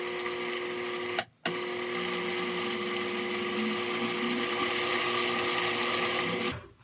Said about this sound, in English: I'm gonna give it another blend.